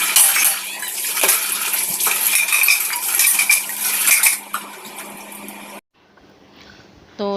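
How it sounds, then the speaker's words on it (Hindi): Steel utensils and dishes being quickly washed in a home kitchen, with continuous clinking, scraping and running water, loud and close, then a short quiet gap and a few soft clatters at the end. "यहाँ पर जो ये कुछ बर्तन हैं इनको फटाफट से मैं क्लीन कर लूँ"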